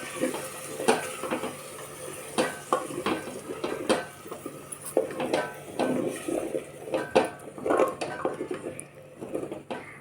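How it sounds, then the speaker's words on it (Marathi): A spoon stirring spinach and potato khichdi in a pot, with irregular close clinks and scrapes against the metal over a faint background hum. "पालक छान आपल्याला व्यवस्थित मिक्स करून घ्यायचं आहे"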